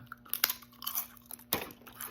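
Close, crisp crunching on papadums dotted with little seeds, with one sharp bite near the start and another loud crack about a second later, each followed by softer chewing.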